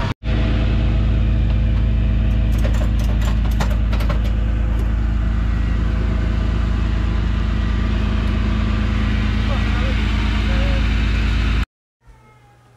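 A 1972 Ford Gran Torino engine runs steadily, a loud, close, deep rumble holding nearly constant for about twelve seconds before cutting off abruptly.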